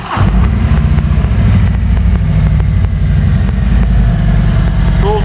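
A 2020 Harley-Davidson Road King with a Milwaukee-Eight engine and Vance & Hines exhaust starts with a brief cranking whir, then settles into a loud, close, deep loping idle with a steady rumbling potato-like pulse.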